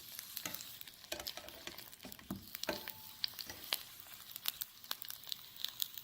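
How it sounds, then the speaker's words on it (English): Fluted mushroom caps fry in olive oil over medium-high heat, giving a steady close sizzle with scattered sharp crackles and pops throughout. "I'm using a little olive oil here, and we're just kind of heating them up here, medium-high heat"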